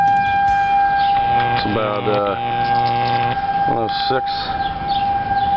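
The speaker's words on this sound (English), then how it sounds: "there goes the tornado sirens" Tornado warning sirens wail across Topeka, Kansas, a steady loud rising and falling tone with someone speaking briefly over it as a storm approaches.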